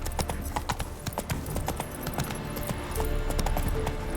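Horse hooves clip-clopping at a steady walking rhythm in The Witcher 3 video game, close and clear over a low ambient bed, with a faint jingle of tack.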